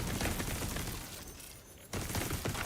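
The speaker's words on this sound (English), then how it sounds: "Like let the turret shoot." An assault turret shooting in The Division 2 video game, loud continuous rapid fire that breaks off briefly near the middle, then resumes at full strength.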